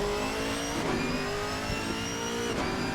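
A race car engine in a GT4 racing video game at COTA, a Chevy coming through turn 2. It roars steadily and loudly throughout with a sustained high revving whine.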